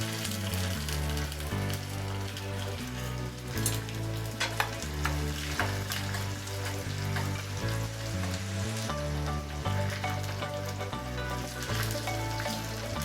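Dried red chillies fry in oil in a pan with a continuous crackling sizzle, heard beneath steady, prominent background music.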